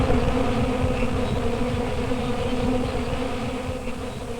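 Honey bees at the hive make a dense, steady buzz that holds at an even drone throughout, close and continuous with no voices.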